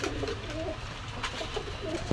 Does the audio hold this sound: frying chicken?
no